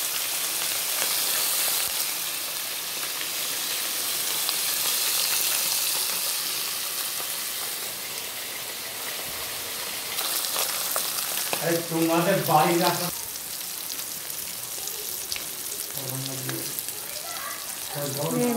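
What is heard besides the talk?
fish frying in a pan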